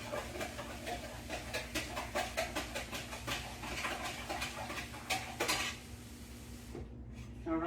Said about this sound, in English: I'm gonna continue to stir it the whole time that it's filling up.